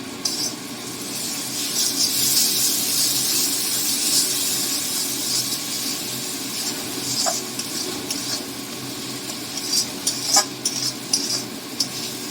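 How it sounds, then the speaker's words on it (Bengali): Ground mustard and poppy seed paste with green chillies sizzling and frying in a pan for a pointed gourd curry, a steady close hiss with occasional stirring scrapes and utensil clinks, no voices. "এবার দিয়ে দিচ্ছি বেটে রাখা সর্ষে পোস্ত কাঁচা লঙ্কা,"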